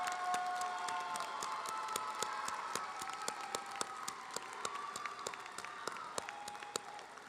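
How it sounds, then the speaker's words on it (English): Graduates at a university commencement ceremony, Eastern Washington University, break into sustained applause and cheering for their families and friends, with dense clapping and scattered whoops filling a large hall throughout. "the biggest round of applause and cheer for your family and friends"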